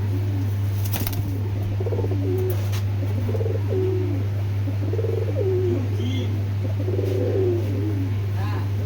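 Pigeons from a tournament line coo repeatedly in rolling phrases close by, over a steady low hum, with a brief flutter of wings early on.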